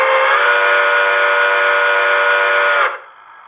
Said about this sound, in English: It's got a basically a long whistle